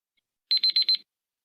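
Electronic quiz show buzzer at a business leadership quiz sounding four rapid beeps in under a second, sharp and clear against silence.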